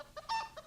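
Chickens clucking in short, agitated bursts while being caught, including one sharper squawk in the middle, all fairly faint.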